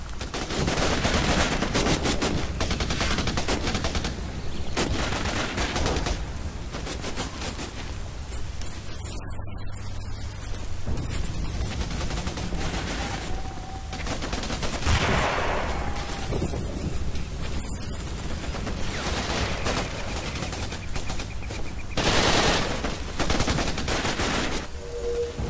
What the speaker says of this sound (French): Et il me tire dessus!